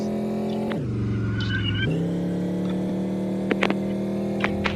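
A car engine in the game Chicken Gun holds a steady droning hum that drops in pitch partway through, then climbs back and settles, with a few faint clicks near the end.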